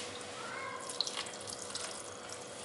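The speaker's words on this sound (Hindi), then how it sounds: "अब इसमें थोड़ा सा पानी डालेंगे।" Water is poured into a pot while making homemade desi ghee, a quiet, steady liquid rush with a few faint splashes over about three seconds.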